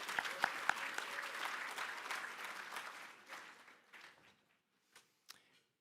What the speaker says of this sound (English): another round of applause to His Worship, Mayor Siemens